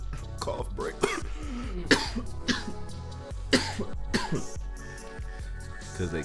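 Repeated close coughs and throat clearing from a podcast host come in several bursts, interleaved with bits of talk from the same nearby voice.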